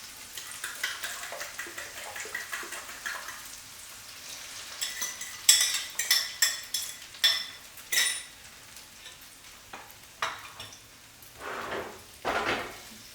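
Egg poured into a frying pan over sautéed chives, soft sizzling joined by clinks and scrapes of utensils against the pan as it is tilted and moved, close and fairly quiet.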